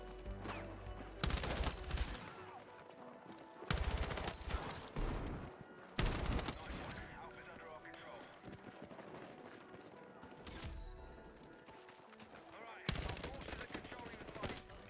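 Bursts of rapid SMG fire crackle through a Battlefield 6 match, several loud volleys broken by short gaps, with dense battle noise filling the background.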